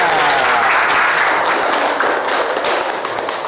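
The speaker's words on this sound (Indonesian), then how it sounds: "Iya, tepuk tangan semuanya." A classroom of people claps together in a loud, dense burst of applause that carries on steadily before easing slightly at the end.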